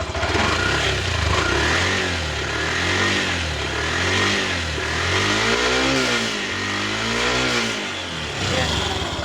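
A Yamaha YTX 125cc motorcycle engine revving up and down close by, its pitch rising and falling in repeated swells over a steady running note. It is loud and continuous.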